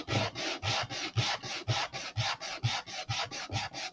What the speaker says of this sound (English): just use a piece of sandpaper on the ground, or on my mat rather, and try to take those burrs off